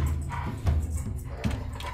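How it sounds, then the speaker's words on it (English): Dogs nearby make soft whimpers and low yipping sounds in short bursts, fairly faint beneath a steady background hum. "my dogs were licking my leg."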